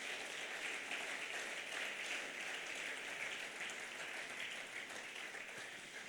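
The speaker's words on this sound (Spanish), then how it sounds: "¿Alguien puede darle un aplauso al Señor?" Faint, continuous applause from a church congregation during a sermon, an even, distant patter of many hands clapping with no break.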